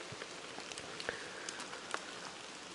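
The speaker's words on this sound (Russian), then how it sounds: "Пошел дождик ночью." Rain falls at night on a campsite in the Krasnodar region during an autumn bike trip, a steady soft hiss of drops pattering on covers and gear, with a few louder individual drips and no voices.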